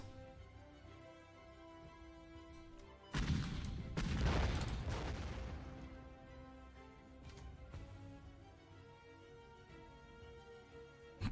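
Autocannon fire in the WWII card game KARDS, a loud burst of booming shots erupting suddenly after a quiet stretch, then trailing off into a rumbling decay over a low musical bed.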